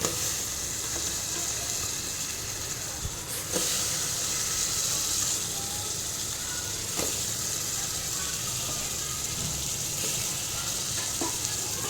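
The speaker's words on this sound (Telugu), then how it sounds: "ముందుగా తరిగి పెట్టుకున్న వంకాయ ముక్కల్ని వేసుకుందాం" Chopped brinjal pieces sizzle steadily as they fry in a pan for a goat head meat curry, a dense, continuous close hiss with a few brief clatters of stirring and no talk.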